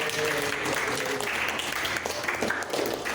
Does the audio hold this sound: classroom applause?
yes